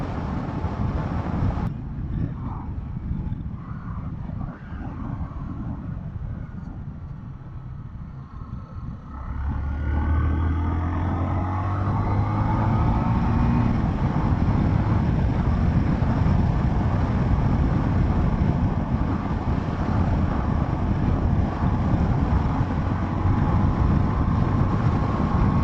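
Zontes T310-T motorcycle cruising at 60 mph in 6th gear at 6,000 RPM, heard as a steady engine drone beneath heavy rushing wind noise that grows louder partway through.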